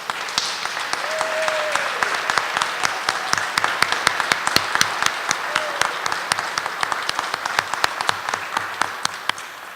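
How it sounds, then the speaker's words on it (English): An audience applauds at a Stand Against Racism event as family members of essay winners stand. Broad, sustained clapping builds and then thins into scattered individual claps, with brief voices underneath. "would you please stand so that we can applaud you?"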